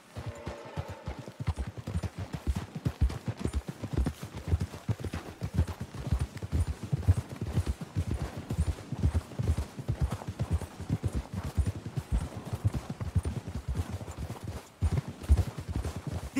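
Horse hooves clip-clopping steadily along a trail in the Western video game Red Dead Redemption 2, a close, even rhythm of soft thuds continuing for a long stretch with no talk.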